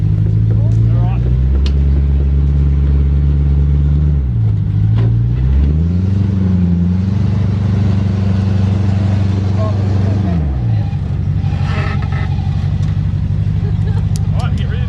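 A V8 4WD engine drones loudly and continuously as the vehicle climbs a riverbank path, its pitch sliding up and down as the throttle changes, with people talking over it.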